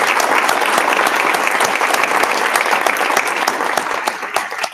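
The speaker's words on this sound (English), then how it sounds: "let's give them one big round of applause" An audience at a school board meeting honoring student leaders breaks into loud, sustained applause, a dense crowd of clapping hands that fades slightly toward the end.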